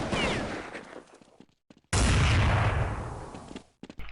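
Gunfire rattles in Counter-Strike on de_dust2 during a DreamHack 2011 match, a loud burst of shots, a brief near-silent gap with a few scattered pops, then a heavy booming volley that fades out.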